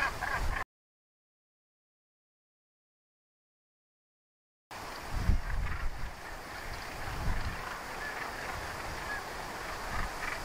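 Northern gannets calling at a seabird cliff colony at Bempton Cliffs, a dense, distant honking chorus mixed with wind noise, following a stretch of silence.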